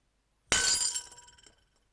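Glass shatters in the video game Edna bricht aus, one sudden loud crash followed by a second of tinkling, scattering shards that fade out, no voices.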